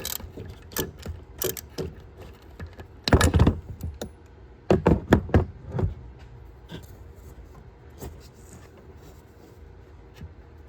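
A socket wrench works loose the PCV valve on a fifth-generation Toyota 4Runner, giving scattered metallic clicks and ratcheting bursts, louder in two short clusters, over a quiet background.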